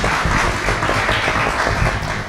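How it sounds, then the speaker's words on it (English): Applause from an audience at a live public health panel on Ebola preparedness, a dense continuous clapping wash heard at moderate level with no speech over it. "before I invite Dr. Emmanuel, please join me with a round of applause to really appreciate the panelists"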